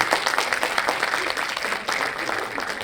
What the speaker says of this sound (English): So let's give them a big round of applause to our wonderful graduates